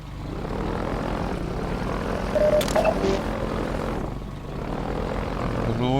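A helicopter in the video game Half-Life 2 drones steadily and loudly throughout, with a dense rotor and engine roar that swells slightly in the middle.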